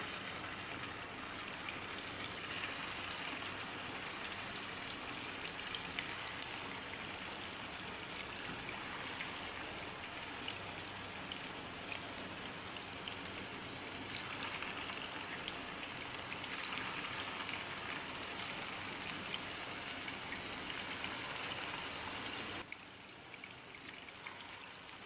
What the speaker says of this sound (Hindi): तो अब हम इसको थोड़ा सा फ्राई कर लेते हैं